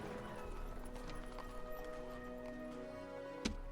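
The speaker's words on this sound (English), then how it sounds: "Horses." Horses gallop in a strategy video game set around Rhodes, a quiet continuous patter of hooves under music-like tones, with a brief sharp knock near the end.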